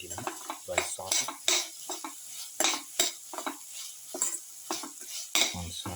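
A winter melon and potato mixture sautés in a pan, with repeated scraping and clinking strokes of a utensil over a steady sizzle. The strokes come in irregular bursts, close and moderately loud, with no talking.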